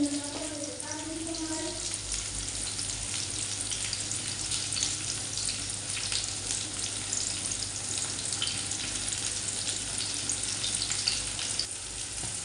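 Onions frying in a pan with a little salt while shrimp with taro stems is prepared, a steady close sizzle and crackle throughout, with brief faint voices at the start.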